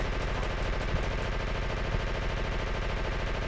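Sustained machine gun fire in Call of Cthulhu: Dark Corners of the Earth hammers out a rapid, steady stream of shots at a regular rhythm, loud and unbroken, with a couple of heavier thuds mixed in.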